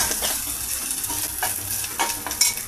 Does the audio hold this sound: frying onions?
yes